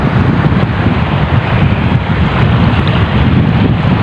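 Strong, steady wind roars across the microphone on open water from a fishing boat, a constant dense rush with no pauses and no voices.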